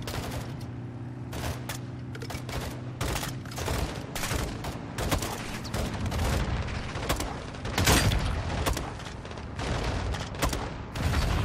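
Gunfire and explosions fill a Call of Duty Modern Warfare II battle: dense bursts of automatic fire and sharp reports with heavy booms, loud and continuous throughout with no pause.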